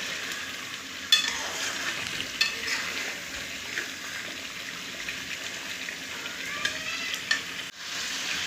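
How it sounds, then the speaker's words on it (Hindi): Chicken fries with yogurt in a pot, a continuous soft sizzle broken by occasional scraping stirs, close by and fairly quiet. "दही डालने के बाद अब मैंने इसको 5 से 7 मिनट भून लिया"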